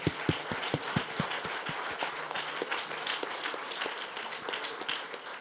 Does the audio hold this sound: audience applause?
yes